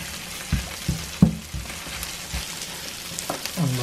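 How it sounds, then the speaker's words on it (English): Tomato puree cooks down in a pan for Greek-style chicken, sizzling steadily and close. A few sharp knocks and clatters of a utensil against the pan cut through, and no one speaks. "Just cooking off the tomato now."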